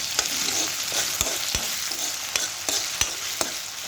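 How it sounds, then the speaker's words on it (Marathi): Poha with potatoes fries in a pan while a spoon stirs it, steady sizzling under repeated sharp scrapes and taps of the utensil against the pan, close and clear with no talk. "मी पोहे बनवत आहे"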